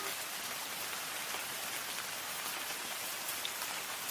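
Steady rain falls at night in a soft, even hiss of countless drops, moderately quiet and unbroken, with no voices.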